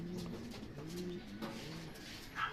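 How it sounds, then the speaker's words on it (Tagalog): Racing pigeons cooing softly after being fed, a steady low murmuring of several birds close by with no talk over it. "So ayan, pinakain na natin yung mga ibon natin"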